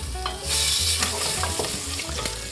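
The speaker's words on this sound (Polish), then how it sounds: "No i to teraz powinno zacząć skwierczeć i nabrać przyjemnego koloru." Raw smoked bacon sizzles in oil in a pan, a steady hiss with crackles and a few stirring scrapes, close and alone without speech.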